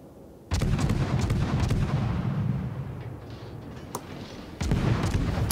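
Naval guns firing in the World of Warships video game, with heavy booming salvos opening loud, a sustained rumbling roll, then another loud salvo near the end, no talk over it.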